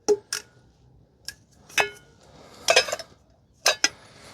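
Metal pieces of the Fire Maple FMC K7 camping cookware set and a spoon clink and clatter in several sharp, separate knocks with short quiet gaps between them.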